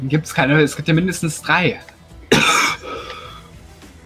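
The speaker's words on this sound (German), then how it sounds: "Ich hab gehustet." A person coughs once, loud and close, as a harsh burst right after a stretch of German speech, with a few faint rough breaths trailing off.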